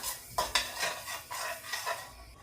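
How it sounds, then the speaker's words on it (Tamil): Black cumin seeds roast in a pan, with faint scraping and stirring against the metal and soft clinks over a low background, no talking. "இப்போ பார்த்தீங்கன்னா கரிஞ்சீரகமும் நல்லா வறுபட்டுட்டுது"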